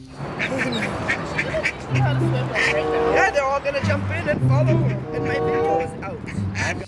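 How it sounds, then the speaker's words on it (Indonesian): Quacking from a cartoon-style duck in a dinosaur park game, repeated bursts over busy game music and effects, with a voice talking over it. "Ini ada bebek."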